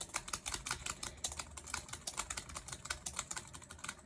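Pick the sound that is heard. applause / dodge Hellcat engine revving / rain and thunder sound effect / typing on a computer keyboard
typing on a computer keyboard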